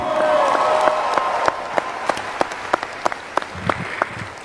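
A keynote audience at Florida A&M University applauds with scattered claps and cheers, the clapping sharp and close at times, thinning toward the end.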